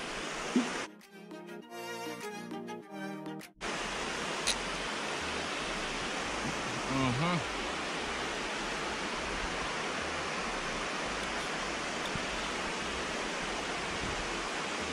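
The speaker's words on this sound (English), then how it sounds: "And a nice beautiful river over there so" A river flowing beside a riverside cooking spot, a steady broadband rush of water that stays loud and even, briefly broken near the start by a short burst of music.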